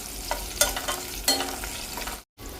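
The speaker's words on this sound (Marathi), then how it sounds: "ही सगळी फोडणी मंद आचेवर 1 मिनिटभर छान सुगंध येईपर्यंत आपण परतून घेतली" A spice tempering for moong dal khichdi fries gently in hot oil over a low flame, with soft sizzling, a few scraping stirs of a spoon against the pan, and a brief dropout near the end.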